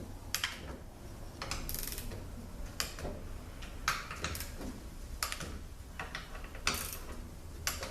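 Torque wrench clicking and ratcheting as bolts are tightened down on a ZF6HP21 transmission, with a series of sharp, irregular mechanical clicks and bursts spread across a steady low workshop background.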